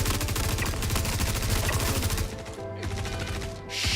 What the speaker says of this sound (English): he shot me through the freaking wall